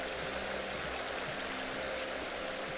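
Flowing water in the video game Until Dawn, a steady broadband rushing wash with a low hum beneath, faint and continuous with no talking.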